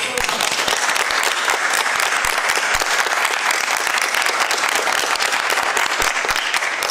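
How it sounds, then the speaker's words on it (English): Audience applause for school achievers at a county schools board meeting, dense and continuous clapping throughout at a steady level, with scattered sharper individual claps standing out. "why don't we give them a round of applause?"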